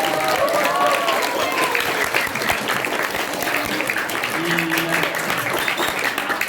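An audience at a school Isra Mi'raj gathering at SMP Negeri 2 applauds a guest's wife, a continuous wash of clapping with some voices and crowd noise mixed in.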